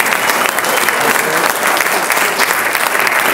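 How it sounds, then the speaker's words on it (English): An audience giving a big, steady round of applause at an honoring event, dense continuous clapping that stays loud and close throughout. "I'd like to give him another big round of applause"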